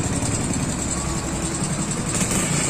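A 90s motorcycle engine runs loud and close with a steady low rumble and slight fluctuations in revs, no voices over it.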